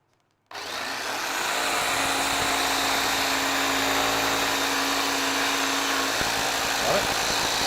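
A jigsaw saws steadily through wood up close, starting abruptly and holding a loud, continuous buzzing whine throughout with little change.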